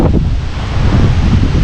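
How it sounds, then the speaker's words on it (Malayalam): Heavy wind buffets the microphone along with rain during an auto-rickshaw ride in a downpour, a loud, constant low rushing roar with no voices. "മഴയാണ് പെയ്യണത്. മഴ പെയ്യുന്നുണ്ട്."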